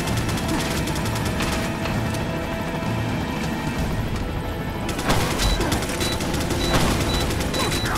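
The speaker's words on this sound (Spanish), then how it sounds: "A ver si puedo pegar la mina en la pared y que la explosión me lo quite de medio." Resident Evil 4 gameplay with a wall-mounted mine exploding amid gunfire, a dense, loud, continuous roar of blasts and crashing debris under game music, sharpening into a fresh burst partway through.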